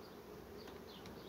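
Honeybees from a young swarm colony hum in a steady, close buzz at the hive, with no voices.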